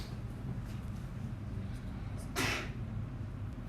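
A single sharp sneeze bursts out once over steady low background noise, brief and moderately loud.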